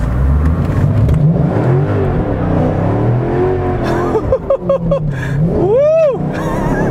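A supercharged Mercedes E55 AMG with added boost revs loudly and close by, its engine note rising and falling in several pulls before a sharp climb and drop carries a rising blower whine.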